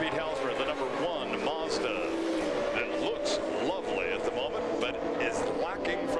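Race car engines at the 1990 Long Beach Grand Prix, GTO/GTU class, roar continuously at a distance as cars accelerate through the gears, with rising engine notes under steady commentary talk.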